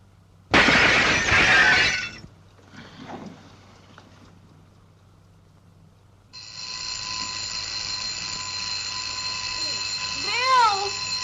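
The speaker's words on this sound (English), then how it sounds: "Might have turned off the alarm before he left." An alarm clock rings alone in a 1938 crime comedy film, a steady electric buzz sustained for several seconds, preceded by a loud crash and a short burst of sound.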